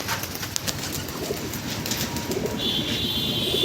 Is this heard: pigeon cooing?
yes